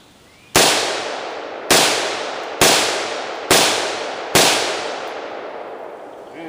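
Five sharp rifle shots ring out at an even pace while ALG and Geissele triggers are tested, each loud report decaying into an outdoor echo before the next.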